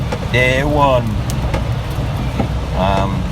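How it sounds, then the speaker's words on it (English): A small Smart car drives along a road on a rainy day, its engine hum and road noise steady and close throughout, with a person talking over it. "Just on my way to the yard now in the little smart car"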